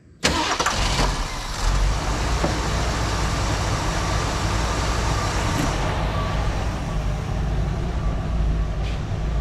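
A 1974 Ford Bronco, not run in over 16 years, cranks briefly and fires, then settles into a loud, steady, rumbling idle close by, with no talking.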